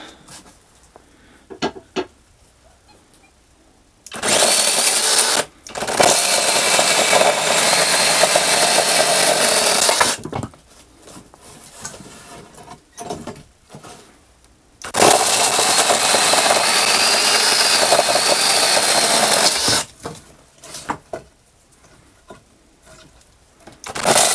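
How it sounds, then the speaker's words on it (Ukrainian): A rechargeable Procraft PKA44 chainsaw cuts through wood in two long, loud bursts of steady whining, separated by quieter stretches of idle clicks and handling noise close by. "я ще може десь одну чи дві трошки попиляю"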